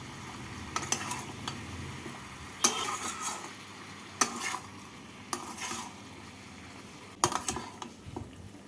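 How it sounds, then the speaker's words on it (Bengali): Vegetables are stirred with poppy seed paste in a pan, with repeated scraping strokes of a utensil against the pan in irregular bursts over a soft sizzle. "পোস্তর সাথে সবজিগুলোকে নাড়াচাড়া করে নেবো"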